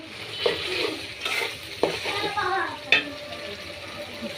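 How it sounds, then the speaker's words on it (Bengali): Meat sautés for haleem in a hot pan, a steady sizzle broken by several scraping strokes of a spatula and light clanks, close up with no talk. "এভাবে গোশটা ভালো করে কষায় নিতে হবে।"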